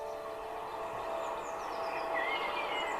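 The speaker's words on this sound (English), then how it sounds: "Just a few freight trains rumble through on their way to the docks." Freight trains rumble along the railway tracks at Walton in a steady, moderately distant drone, while birds chirp faintly above it.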